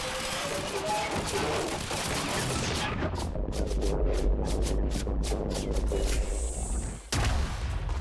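Sniper and assault rifle shots in Quantum Break, a run of sharp separate cracks in the middle section over continuous game background noise, then a sudden drop and a return.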